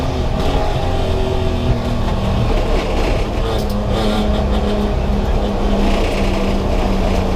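Valiant E49 Charger with a Hemi six-cylinder engine accelerating hard, a loud, continuous engine roar with rising revs that carries steadily through the whole stretch without a break.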